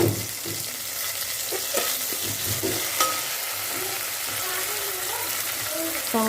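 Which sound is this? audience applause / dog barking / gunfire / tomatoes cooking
tomatoes cooking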